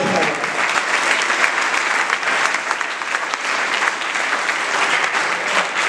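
A Spanish-speaking church congregation claps in loud, unbroken applause, a close, dense wash of many hands that carries evenly throughout.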